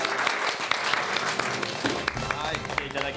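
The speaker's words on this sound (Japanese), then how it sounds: "拍手。" Studio audience applause welcoming a guest robot-creator teacher on a Japanese TV lecture program about a kids' robot class, steady clapping mixed with voices talking over it.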